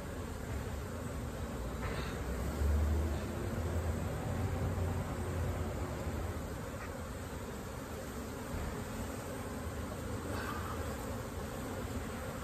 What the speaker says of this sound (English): But this thing is just loaded with bees